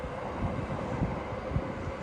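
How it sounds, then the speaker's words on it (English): A train runs along nearby tracks in Tokyo, making a continuous low rumble with faint rhythmic clatter and some wind noise, fairly close but not loud. "It's really like a train passing every few seconds."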